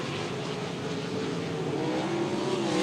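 Sprint cars roar around a dirt speedway in a steady, dense engine drone, several cars blending into one continuous loud racing sound with no break.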